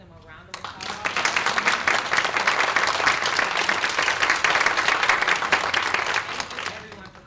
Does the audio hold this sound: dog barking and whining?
no